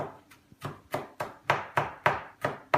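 A knife finely chopping garlic on a board, about ten crisp, evenly spaced strikes in a steady rhythm, close and clear with no talking.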